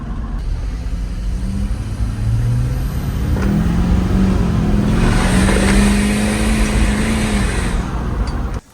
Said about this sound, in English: That is one of the greatest factory sounding turbos I think I've ever heard